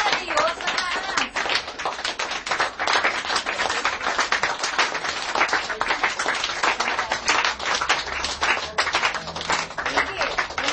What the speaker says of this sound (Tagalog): Ang palakpak sa Diyos sa taas.